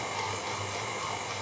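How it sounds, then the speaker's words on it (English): A bread machine motor churns steadily while mixing dough for hot cross buns, a constant close whirring hum that runs unbroken until it cuts off abruptly at the end. "You can hear my bread machine in the background."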